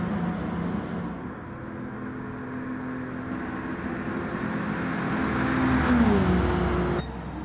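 Stock cars engines drone at the finish of a CASCAR legends race in Gran Turismo 7, a steady roar swelling as cars pass close by, then dropping off abruptly near the end.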